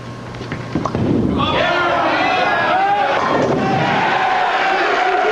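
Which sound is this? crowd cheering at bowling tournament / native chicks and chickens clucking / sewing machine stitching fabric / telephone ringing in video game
crowd cheering at bowling tournament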